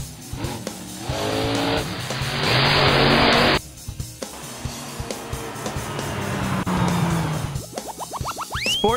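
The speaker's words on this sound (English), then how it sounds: "Monster truck." A monster truck's engine revs and tires squeal and skid in a loud, close pass, with a roaring burst that cuts off sharply, then more revving and a rising whine toward the end.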